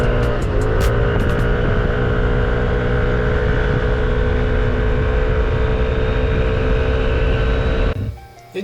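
A Yamaha NMAX V2 scooter fitted with an MTRT Super Sports CVT climbs uphill with a loud, sustained engine drone and steady whine close to the microphone, plus some wind buffeting, ending with a sudden drop near the end.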